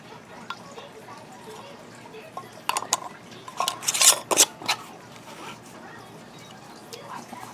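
Metal canning lids and rings are fitted and twisted onto glass jars of potatoes, producing a short cluster of sharp clinks and light scraping in the middle against a quiet kitchen background.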